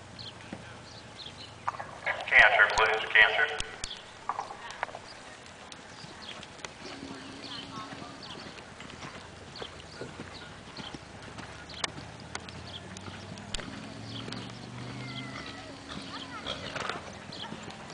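Horses walk around an arena at a horse show, hooves clip-clopping steadily at a moderate distance, with occasional faint birdsong and people talking in the background.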